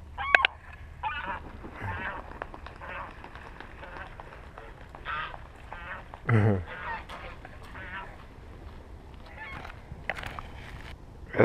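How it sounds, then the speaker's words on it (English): Geese and ducks honk and quack in short outbursts at a suburban waterside while a dog chases a duck, with a loud close squawk mid-clip over a steady outdoor hum and faint background voices. "He's going after the duck."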